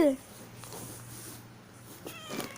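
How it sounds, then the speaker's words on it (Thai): Two cats, one white and one black, fighting and meowing; a short cat cry comes at the start, then a low, tense growling hum runs under quieter scuffling, with a louder burst near the end. "สู้กันระหว่างแมวขาวแมวดำ"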